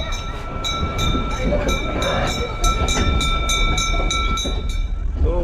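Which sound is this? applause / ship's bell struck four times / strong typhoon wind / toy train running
toy train running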